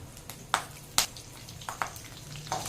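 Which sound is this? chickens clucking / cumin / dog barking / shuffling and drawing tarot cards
cumin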